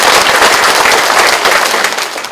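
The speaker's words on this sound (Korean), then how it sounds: "교육감님께 다시 한번 큰 박수 부탁드립니다" Dense, loud audience applause fills a hall at a school-violence prevention volunteer training event, a continuous crackle of many hands clapping close by without pause.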